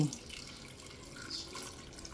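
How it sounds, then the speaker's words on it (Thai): Vinegar pours into a glass jar for homemade pickled vegetables, a brief steady liquid stream and trickle heard up close. "อันดับแรกเลยเราจะใส่น้ำส้มสายชู"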